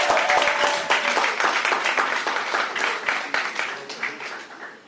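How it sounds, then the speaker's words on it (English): An audience at an official ceremony releasing Caribbean examination results breaks into lively, dense applause that begins strong and gradually thins and fades over several seconds. "Give him a applause."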